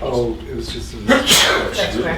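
Someone sneezes once, sharply, in a town selectmen's meeting room, with people talking just before and after it.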